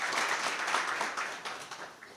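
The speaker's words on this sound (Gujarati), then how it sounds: "જોરદાર તાળીઓથી એમને આવકારીએ." An audience gives a brief burst of steady, dense applause to welcome a former commando speaker, moderately distant and fading slightly toward the end.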